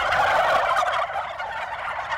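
Wild turkeys gobbling in answer to a hen call, loud rattling gobbles close by, running as a dense continuous burst with no talking.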